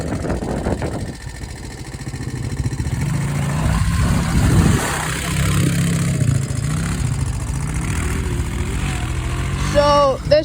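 A quad bike engine drones steadily while drifting on a small dirt track, a loud, close rumble that swells and eases, with a brief higher whine near the end and no talk.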